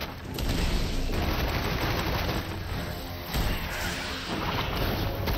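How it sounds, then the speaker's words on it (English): A dense, continuous barrage of shots and crashing impacts from an attack in Forspoken, loud and sustained with overlapping bursts and no pauses. "But now I mean to shoot."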